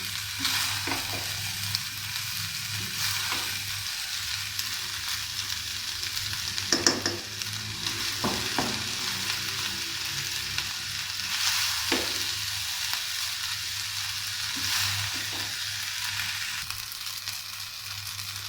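Rice with tomatoes and capsicum is stir-fried in a pan over high flame for a spicy peri peri dish, a steady frying sizzle with intermittent stirring clatter and scrapes, no voices.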